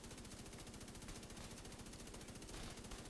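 A Negev light machine gun firing in The Division 2, a dense unbroken stream of rapid automatic shots, loud and continuous throughout.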